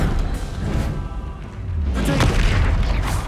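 A Confringo spell blast from the Hogwarts Legacy video game on PC, heard as a deep booming explosion with rumbling low end that swells in the second half amid ongoing battle noise.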